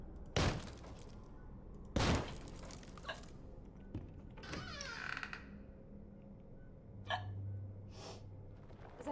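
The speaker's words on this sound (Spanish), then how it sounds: "¿Sabes cómo se quita el hipo?" Sharp, loud hiccups, two strong ones close together early, followed by softer breathy sounds, a couple of faint later hiccups and a low hum near the end.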